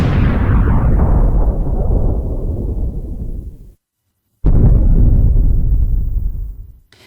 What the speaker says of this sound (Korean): 이렇게 폭발음이 발생한다